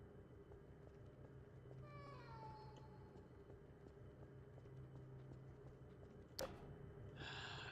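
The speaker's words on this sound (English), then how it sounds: "That freaky ass cat from down corridors again." A cat in the video game Garry's Mod lets out a single drawn-out, wavering meow over a low ambient hum, followed by a sharp click and a brief hiss.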